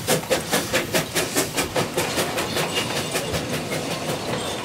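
Puffing Billy narrow gauge steam train running on an uphill railway, with loud, steady chuffing puffs in a quick, regular rhythm over a rumbling clatter of wheels.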